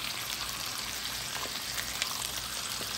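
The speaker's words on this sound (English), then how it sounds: "And sizzling bacon, just wonderful." Bacon sizzles and crackles in a pan, a steady fine hiss with scattered pops, moderately quiet and close, with no voices.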